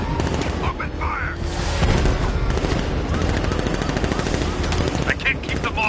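Rapid automatic gunfire rattles nonstop in a Batman video game firefight, dense bursts overlapping with booms and shouted voices throughout.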